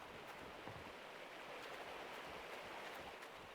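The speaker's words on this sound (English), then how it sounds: "the creek is super loud today for whatever reason" A creek rushes steadily in Gold Rush The Game, a loud, constant broadband wash of flowing water with no break or change, heard alone without any voices.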